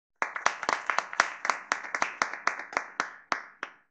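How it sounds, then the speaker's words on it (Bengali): An audiobook sound effect of someone clapping their hands, about sixteen crisp, close claps in a steady, brisk rhythm that spaces out slightly toward the end, heard alone with nothing else. "হাততালির শব্দে সে ঘুরে তাকালো দোতলার ছাদের দিকে"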